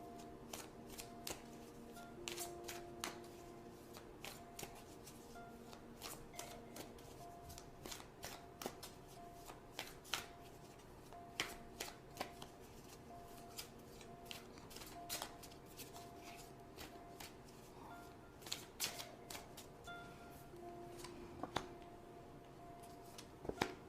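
Tarot cards are shuffled by hand in a quiet room, giving a steady run of soft, close riffles and flicks with small taps, sounding alone and at low volume throughout.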